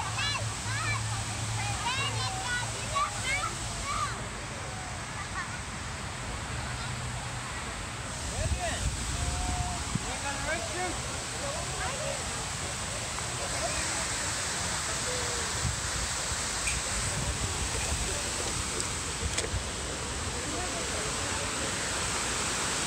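Water pouring continuously down the Houston Waterwall, an artificial waterfall in downtown Houston, a loud steady rushing wash heard up close, with people talking faintly in the background.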